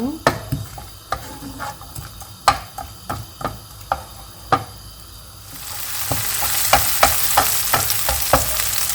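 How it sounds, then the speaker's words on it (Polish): Onion frying gently in a pan, a soft sizzle that swells louder after a few seconds, punctuated by a regular series of sharp taps and scrapes from stirring; no talking. "Dodaję cebulę. Delikatnie podsmażę."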